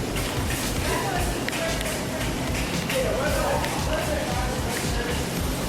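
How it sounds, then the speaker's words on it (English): Busy store interior on New Year's Eve, a dense wash of shuffling footsteps, taps, cart rattles and crowd murmur moving past steadily throughout. "I just want you to listen as we move through the store"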